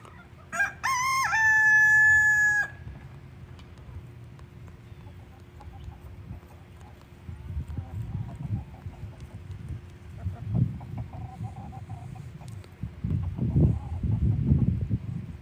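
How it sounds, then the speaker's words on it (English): A rooster crows loudly once near the start, followed by low rumbling background noise and faint clatter. "That rooster's feeling it this morning, huh?"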